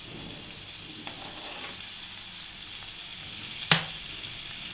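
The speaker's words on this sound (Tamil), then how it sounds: "இந்த பாருங்க, இது மாதிரி உருகணும் வெண்ணெய் உருகின்னு அவ்வளோதான்." Butter melts in a pan with a soft, continuous low sizzle, and a single sharp clink of a utensil sounds near the end.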